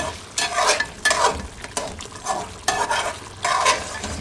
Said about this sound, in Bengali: কষানো হচ্ছে মাংস